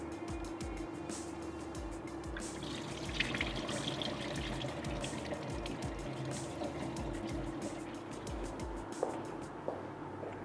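Water runs and splashes steadily as it drains off soaked sela rice, a continuous close gurgling stream with faint knocks, alone without voices throughout.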